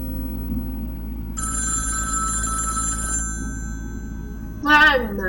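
A telephone bell rings steadily in The Dream Machine video game, a sustained electronic ring lasting a couple of seconds over a low ambient hum, followed by a brief burst of voice.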